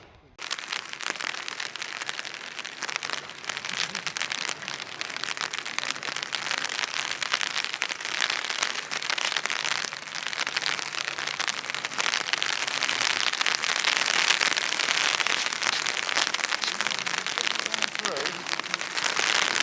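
Heavy rain pours down steadily at the seaside at Fort Victoria during a sea fishing session, a dense continuous hiss that grows a little louder toward the end, with faint talk underneath.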